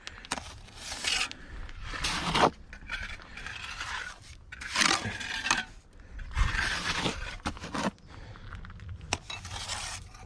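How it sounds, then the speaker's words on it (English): A steel trowel scrapes and spreads mortar along the edge of a concrete block in several short, close, rasping strokes separated by brief pauses. "you get some mud on your trowel, you put it on the edge of the brick, the block rather"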